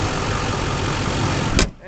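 A Chevrolet K2500 crew cab 4WD diesel pickup truck idles steadily and loudly up close, a constant, even engine rumble that ends with a brief bump.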